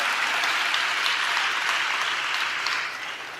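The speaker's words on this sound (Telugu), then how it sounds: "చప్పట్లు కొడుతూ స్తోత్రాలు చెప్దాం" A church congregation claps in praise, a dense, even wash of applause from many hands that fades slightly near the end, with no speech over it.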